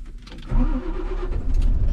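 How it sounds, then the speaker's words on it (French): A vehicle engine cranks briefly, then catches and settles into a steady idle with a low rumble, heard close during a brake-test inspection of a heavy vehicle with air brakes. "Donc je vais mettre en marche le véhicule"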